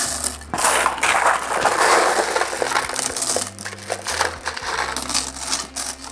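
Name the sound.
pouring fire pit glass into a concrete bowl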